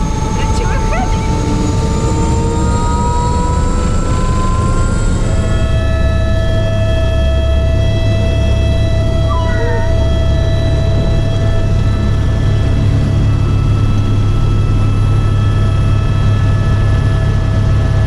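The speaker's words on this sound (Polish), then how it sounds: "chyba lecimy w ogóle helikopterem" A helicopter flying out of Lukla in the Everest region drones steadily and loudly throughout, with a deep low rumble and whining engine tones that shift partway through, heard from inside the cabin.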